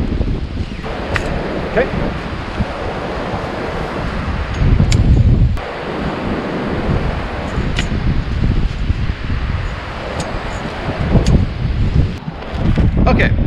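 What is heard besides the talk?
strong wind at the beach with surf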